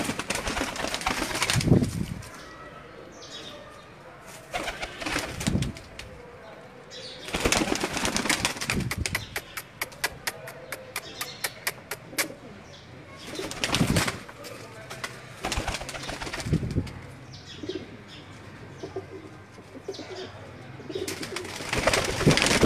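Sialkoti pigeons coo and beat their wings in bursts of loud flapping, with rapid wing-clatter trains and soft cooing between, close by, with some human voice in the background.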